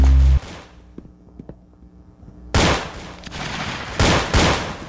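Gunfire in the video game Arsenal: loud bursts of rapid shots cut in sharply after a quiet stretch, with repeated loud volleys near the end.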